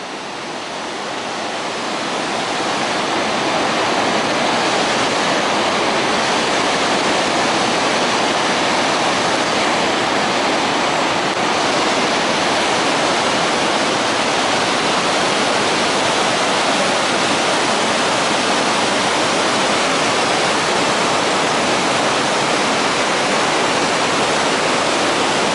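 A roaring waterfall that boats pass beneath, a dense, steady wash of crashing water that fills the whole scene loud and close, swelling up in the first seconds and then holding constant with no voices.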